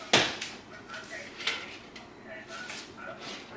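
A metal spoon clinks and scrapes against a pot while scooping cooked rice for a homemade Chipotle bowl, a sharp knock followed by several lighter taps and scrapes close by.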